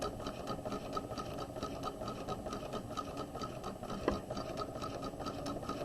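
A sewing machine stitches steadily around the outer curve of a flat collar, a continuous close mechanical whir and rapid needle clatter running unbroken for several seconds, with one brief louder knock near the end.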